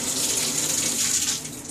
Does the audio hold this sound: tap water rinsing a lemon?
yes